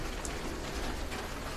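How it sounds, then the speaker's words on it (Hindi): Steady rain falls during rainy weather at an outdoor solar panel installation, a soft continuous patter with scattered drop sounds, faint and even throughout. "ये देखें जी, रेनी वेदर है, बारिश हो रही है"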